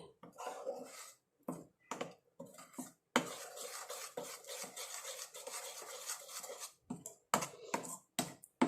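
Amla powder and indigo powder being stirred into tea water, a run of quick scraping and clinking of a spoon against a vessel, close up, with brief pauses and a longer steady stretch of mixing.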